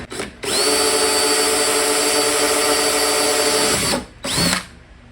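Power drill boring a small hole at the end of a crack in a 1979 Corvette body panel, one steady whine lasting about three and a half seconds, then a short second burst, close and loud.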